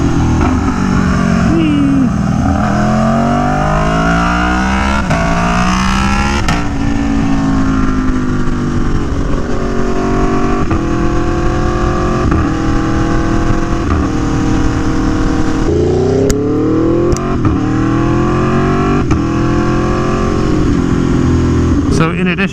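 Aprilia Tuono V4 1100 Factory motorcycle with an SC Project CR-T exhaust, ridden on the road: a loud, steady engine drone with repeated rising and falling revs through gear changes, close to the microphone with wind rush.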